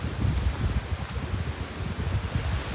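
Strong wind blows across an open campus in North Sulawesi, gusting in uneven pulses with a soft rustle of leaves and buffeting against the microphone, with no voices.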